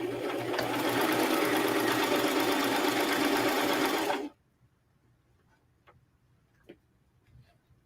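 A sewing machine runs a fast, steady stitch through sweatshirt fabric for about four seconds, loud and close, then stops abruptly, leaving faint clicks and handling sounds.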